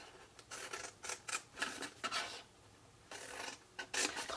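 Scissors snip and cut through paper while a Stampin' Up! coffee break milk carton is made, giving a run of close, crisp cuts in short bursts with brief pauses between them.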